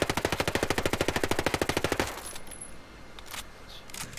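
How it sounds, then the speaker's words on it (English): Unsuppressed full-auto fire from an MP5 submachine gun in the video game Ghost Recon Breakpoint: a rapid, loud, even burst of about two seconds, then it cuts off into quiet room tone with no talking. "with the MP5 on this game, you can only have 3 round burst or full auto"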